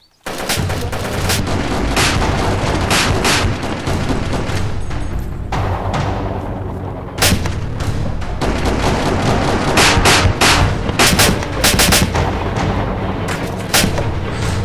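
Heavy gunfire in a large firefight in the video game DayZ, with dense volleys of shots and booms going on almost without a break and staying loud across the whole stretch.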